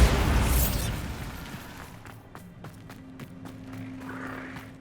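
A Bombarda spell blast in Hogwarts Legacy booms loudly at the start, then a rumbling burst fades into a series of sharp clattering impacts and debris noises, with no voices.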